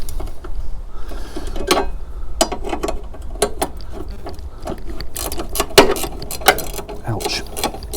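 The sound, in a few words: ratchet removing a bracket on a Fiat 500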